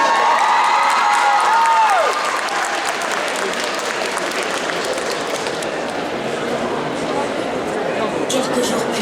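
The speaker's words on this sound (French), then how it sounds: "On applaudit fort s'il vous plaît." A crowd at a cosplay contest and costume parade applauds loudly and cheers, with whoops and shouts over dense, continuous clapping that stays strong throughout.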